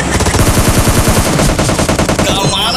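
Dense, loud automatic gunfire rattles continuously in the PUBG Lite mobile battle game, a rapid unbroken stream of shots close up and dominating the whole moment.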